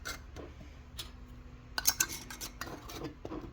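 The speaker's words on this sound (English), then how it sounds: "We're going to tighten those lids on top of those." Lids being screwed down on glass jars of homemade maple syrup, a few small clicks and scraping twists of metal against glass up close, quiet and scattered.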